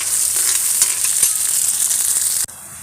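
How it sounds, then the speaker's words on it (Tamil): Turkey berries sauté in sesame oil in a kadai, with a constant bright sizzle and a few soft stirring scrapes close by before the frying noise abruptly drops away. "சுண்டைக்காயை அதை போட்டுக்கலாம். எண்ணெயில் நல்லா வணக்கணும்."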